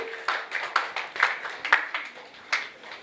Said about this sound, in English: So can we have the loudest applause for all of you guys, for all the amazing audience.